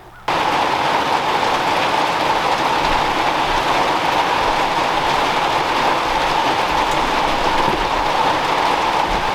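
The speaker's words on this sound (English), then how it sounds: "It's starting to rain." Heavy rain pours down steadily outdoors beside a garden deer fence, a dense, continuous hiss that starts abruptly and stays loud and unbroken throughout.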